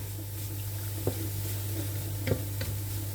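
Small pieces of food sizzle steadily as they grill in a frying pan, with a constant frying hiss and a few faint utensil clinks.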